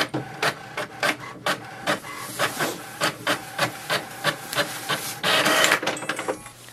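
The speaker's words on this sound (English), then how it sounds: "just click on the information button once and it will print a page" An HP Envy 6055 all-in-one printer prints its information page, with a close, loud mechanical rhythm of repeated feed pulses about three per second, ending in a longer whirring stretch.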